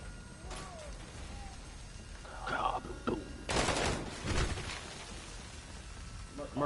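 A nuke detonates in a zombies video game: a loud broadband blast erupts midway and rumbles on, surrounded by sharp gunfire-like bursts and faint electronic tones.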